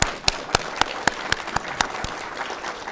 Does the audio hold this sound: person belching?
no